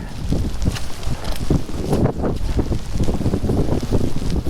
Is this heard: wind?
yes